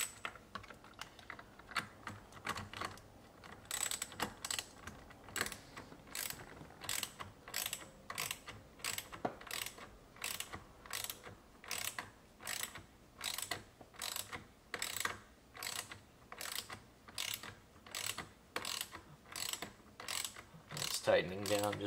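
A hand ratchet tightens the steering wheel bolts on a C8 Corvette during a carbon fiber wheel install, clicking in quick, repeated bursts with short pauses between strokes, close and clear.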